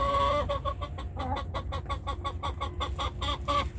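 Chickens cluck steadily in a rapid, repeated rhythm, close and fairly loud, with no talk over them, during a backyard feeding of kangkong to pet rabbits after a snowstorm.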